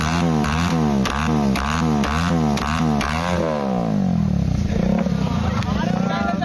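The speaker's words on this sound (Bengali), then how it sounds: "একটা ছেলে এখানে বাইক নিয়ে সাইলেন্সার পাইপ দিয়ে আগুন বের" A motorcycle shooting flames from its silencer pipe revs hard in loud, rhythmic bursts, then settles into a rough idle as a crowd murmurs nearby.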